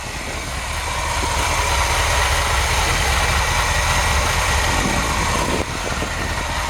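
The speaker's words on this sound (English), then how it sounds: "Perfect sounding engine. I mean, it's not too loud and not too quiet." A 1964 Chevrolet C-10 pickup truck engine idles steadily nearby, an even, moderate rumble that holds constant with no voices.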